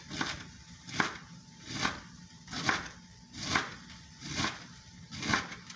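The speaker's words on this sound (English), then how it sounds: "And finally, purple cabbage, okay? Very thinly sliced." A knife thinly slices purple cabbage on a cutting board in a steady rhythm of crisp, close chops, about one every second, each followed by a brief lull.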